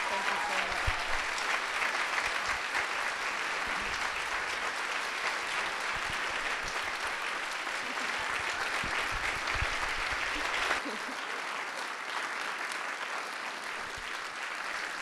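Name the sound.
audience applause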